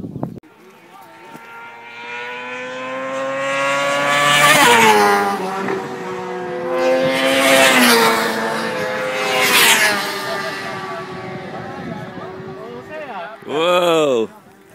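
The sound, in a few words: Honda CBR600RR and Yamaha YZF R6 sportbikes flying by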